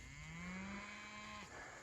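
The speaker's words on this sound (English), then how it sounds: "I'd say these cows are super calm." Cattle grazing in a pasture after heavy rain following a drought; a single long, low moo rises slightly and holds steady for over a second before cutting off, close and clear over a faint outdoor background.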